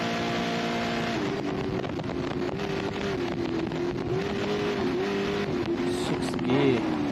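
A Class 10 off-road race car with a 2.5-litre engine holds sixth gear at speed in a desert race, a loud, sustained high-revving drone with a slight rise and fall in pitch.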